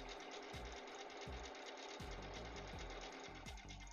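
A sewing machine stitches over the front seam of a Poison Ivy cosplay costume. It makes faint, rapid mechanical clatter in short bursts separated by brief pauses, with no speech.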